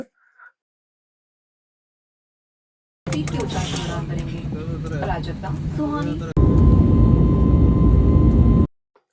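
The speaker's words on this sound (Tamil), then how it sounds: "ஃப்ளைட் வந்து அனௌன்ஸ்மெண்ட் பண்ணிட்டு ஃப்ளைட் எடுத்துட்டாங்க" IndiGo airliner taking off from Cochin bound for Doha, heard from the cabin as a steady loud engine roar that rises into a stronger, denser rush partway through, with voices over the first part before it cuts off.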